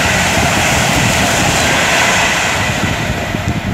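A Pendolino on the London to Manchester service passes at Lichfield Trent Valley on the West Coast Main Line: a loud, continuous broadband roar that stays strong throughout.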